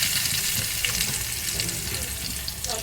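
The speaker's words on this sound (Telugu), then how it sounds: "ఆయిల్ వేడెక్కుతా ఉంది. ఇప్పుడు చేప జన గుడ్లు వేసేస్తాను." Fish roe dropped into heated oil in a pan sizzles and crackles loudly and continuously, with a close, dense frying hiss and no talking.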